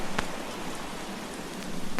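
Steady rain pours as a sound effect for the Noah's Ark flood story, a dense even hiss with a couple of sharper drop impacts, continuous and close.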